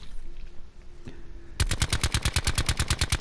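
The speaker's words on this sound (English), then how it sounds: "So I'll just shoot at this wall, guys" An automatic weapon in Call of Duty Blackout fires at a wall, a steady rapid stream of close, loud, evenly spaced shots lasting almost two seconds after a quiet lead-in.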